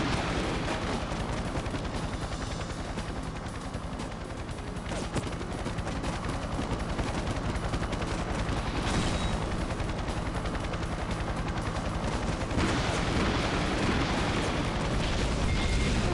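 Rapid, sustained gunfire from the 2000 Nintendo 64 game 007: The World Is Not Enough, a dense continuous barrage with bursts layered over game sound throughout, loud and steady.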